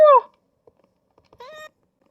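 A cat in a video game meows twice, a loud close meow followed after a pause by a second, softer one, with faint taps between them.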